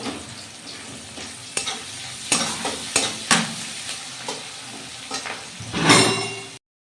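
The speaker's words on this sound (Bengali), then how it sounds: "তো পেঁয়াজটা ভাজা ভাজা হোক।" Onions sizzling in a pan for a pointed gourd (potol) recipe as a spatula scrapes and knocks against the metal every second or so, building to a louder burst of frying near the end, close and without talk.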